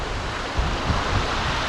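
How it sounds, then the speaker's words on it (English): Mountain stream in the Carneddau, Snowdonia, spilling over small waterfalls, a steady broadband rush of flowing water with a few soft low splashes, close and continuous with no voices. "Following up this stream to start with. She's covered in beautiful little waterfalls."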